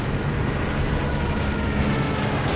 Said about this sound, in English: Except, of course, for the sounds of gunfire and all the explosions.